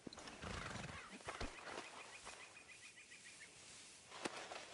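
A horse whinnies and its hooves clop in the western game Red Dead Redemption 2, a close neigh followed by scattered hoofbeats, with faint birdsong behind and no talking.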